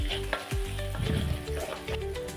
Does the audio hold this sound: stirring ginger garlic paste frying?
yes